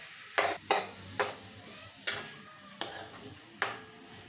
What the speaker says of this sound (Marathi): थोडासा याचा कच्चापणा घालव घालवण्यासाठी आपल्याला भाजून घ्यायचा आहे